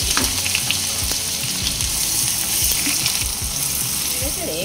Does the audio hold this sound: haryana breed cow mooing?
no